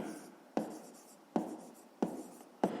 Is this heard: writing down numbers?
yes